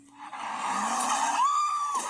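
A car does donuts in front of a fire station in North Memphis, with its tires squealing in a continuous loud screech that rises into a high, sustained whine.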